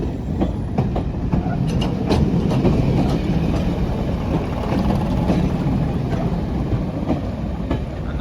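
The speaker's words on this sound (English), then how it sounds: "So here we have now the Craven, I think it's a 105." A Class 105 Craven diesel multiple unit train at a station platform, with a steady, loud rumble and clattering of the train running throughout, and no voices heard.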